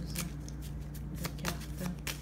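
Playing cards shuffled and drawn by hand for a tarot-style reading, giving a few quick riffling and sliding bursts over a steady low hum, close and moderately quiet.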